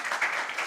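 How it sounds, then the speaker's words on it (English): Brief burst of audience applause at a finance conference as a panelist is introduced, fairly soft and distant, lasting under a second. "big round of applause for him."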